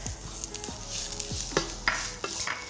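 Ground spices and brown sugar tipped into a hot pan for a prawn, tamarind and herb stew, giving a steady close sizzle with scraping stirs and a few sharp clinks of a utensil against the pan.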